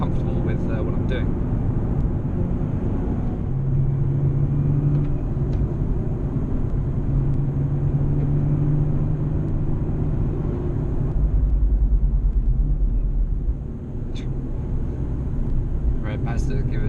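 Steady low engine rumble of a car lapping the Rockingham race track, continuous and fairly loud throughout, with road and wind roar.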